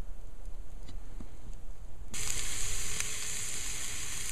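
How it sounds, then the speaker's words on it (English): A sausage sizzles in a pan held over a campfire, a steady close frying hiss that swells sharply halfway through and then holds loud and even to the end. "I got that sausage sizzling real good"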